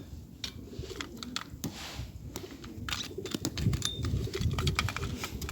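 Pigeons coo steadily inside a pigeon loft during disinfection by burning, over a busy, clattering background, with scattered sharp knocks and rustles close by, growing slightly louder toward the end.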